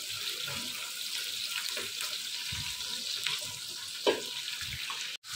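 Chicken pieces sizzling in a frying curry pan for a home-cooked saalan, a steady close hiss with a few small pops and clatters, ending in a sharp knock.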